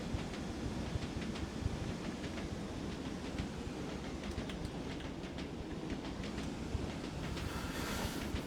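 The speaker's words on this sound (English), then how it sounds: "I love the clackety clack of the 101." A Class 101 diesel multiple unit on the Tees Valley Line in Train Sim World: a steady rolling rumble with a regular clickety-clack of wheels over rail joints throughout.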